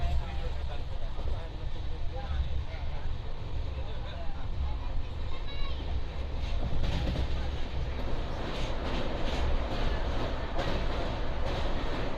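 A train rumbles at Pune railway station, with a continuous low mechanical roar and faint rhythmic rail clatter under moderately loud platform noise and talking.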